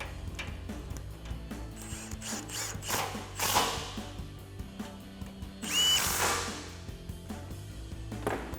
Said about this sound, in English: Tighten them up with our 17mm socket.